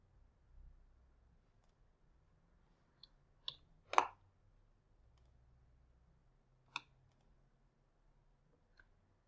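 Several sharp, isolated computer mouse clicks, spaced irregularly with one louder click near the middle, over a faint quiet background.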